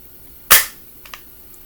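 A single sharp crack from an Umarex Walther PPQ air pistol fired close by, followed by a couple of faint mechanical clicks in quiet surroundings.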